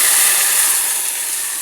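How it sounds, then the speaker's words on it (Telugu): Dry red chillies fry in hot tempering oil for a bottle gourd pulusu, making a loud, continuous hiss that holds steady and fades only slightly. "ఎండుమిర్చి తాలింపులో వేగుతుంటే"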